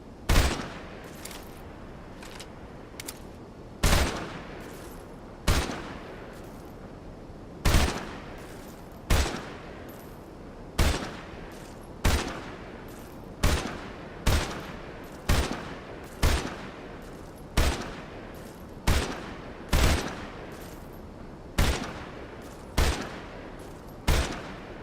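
Gunfire in a video game, aimed at a bridge: loud sharp single shots spaced about a second apart, repeating steadily and alone, with no talking.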